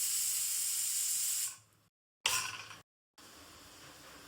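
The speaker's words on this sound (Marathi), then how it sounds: "कुकरला 2 शिट्ट्या झालेल्या आहेत म्हणजे भाताला." A pressure cooker cooking rice lets off a loud, sharp hiss of escaping steam that cuts off, then gives a second shorter burst and a faint trailing hiss.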